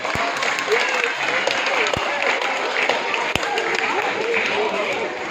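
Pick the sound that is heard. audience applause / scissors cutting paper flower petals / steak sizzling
audience applause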